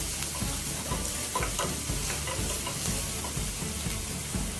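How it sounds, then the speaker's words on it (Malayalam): Chopped onion, ginger and green chillies frying in hot oil, a dense continuous sizzle with soft repeated scraping as a spoon stirs the pan, close and alone without speech. "എണ്ണ ഒന്ന് ചൂടായി കഴിയുമ്പോൾ നമ്മൾ നേരത്തെ തന്നെ അരിഞ്ഞു വെച്ചേക്കുന്ന സബോള, ഇഞ്ചി, പച്ചമുളകൊക്കെ ഇട്ട് കൊടുക്കാം. നമുക്ക് നല്ലോണം ഇളക്കിയെടുക്കാം."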